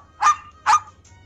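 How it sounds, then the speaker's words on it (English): A dog barks twice in quick succession, two short sharp woofs close by over a low background hum, from an animal puzzle toy. "Dog."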